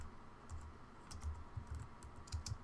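Quiet, close typing on a computer keyboard while a code comment is entered, with irregular clusters of soft key taps and no voices.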